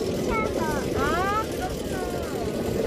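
An airplane passes over the sea near Yeongjong Island as a steady, distant rumble beneath children's excited voices on a seaside rail bike.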